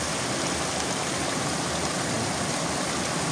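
Strong water rushes inside a tunnel, a constant, dense roar like a fast underground river or waterfall, loud and unbroken, with no voices over it.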